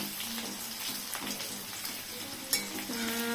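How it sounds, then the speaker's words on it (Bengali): Potatoes frying in mustard oil, a dense, bright sizzle close by with a few soft stirring scrapes and a brief clink near the end, no voices. "এখানে সরষের তেল দেওয়া হয়েছে তো, তো আলুটা ভাজা করা হচ্ছে"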